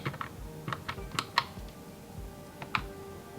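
Numbers being typed on a computer keyboard while filling in a monthly zero-based budget, a series of close, light key clicks in quick irregular bursts with short pauses between.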